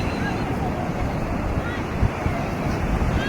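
Sea waves wash onto the shore in a steady surging roar, with strong wind buffeting the microphone and swelling briefly midway.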